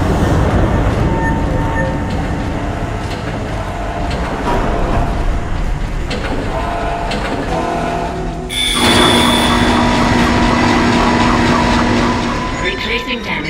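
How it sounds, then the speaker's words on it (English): Tram car from Dead Space rolling along its track with a steady, loud mechanical rumble and rattle that shifts sharply partway through, with machinery hum and tones continuing after. "Replacing damaged tram car."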